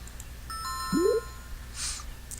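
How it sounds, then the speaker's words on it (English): An electronic apartment door buzzer rings in the game 2064: Read Only Memories: a short chime of clean, stacked tones with a brief rising blip, followed by a faint soft burst, all quiet and alone. "You can't use a speaker without ringing the bell."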